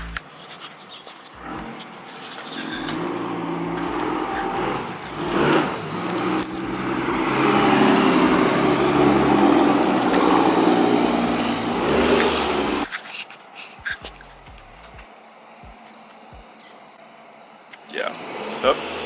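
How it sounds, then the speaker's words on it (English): A neighbor's car out on the street, idling and revving its engine early on a Saturday morning, builds to a loud sustained roar and then fades as it drives off up the road, leaving quieter background noise. "He's like idling outside of his house, just like revving his engine."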